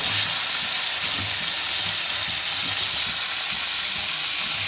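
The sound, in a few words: small shrimp frying in oil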